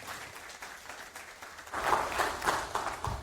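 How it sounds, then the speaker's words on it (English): Audience clapping at a Debian conference talk on Linux live patching, faint at first and then swelling louder as more hands join to welcome two presenters. "Give them a very warm welcome applause."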